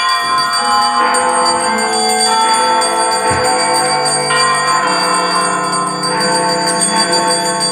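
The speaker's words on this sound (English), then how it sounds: "Soon it rang out louder, and so did every bell at the house." Several bells ring together continuously, layered resonant tones overlapping and sustaining loudly throughout, with no voices.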